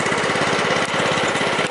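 A small ice auger engine idles loudly and steadily while warming up on a frozen lake during ice fishing in Saskatchewan, chugging with a close, rapid rhythmic putter.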